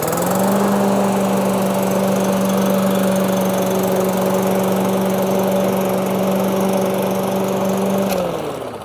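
A Webb petrol lawn mower engine runs at a steady, even pitch after a one-step start, close and loud throughout before briefly dipping at the end.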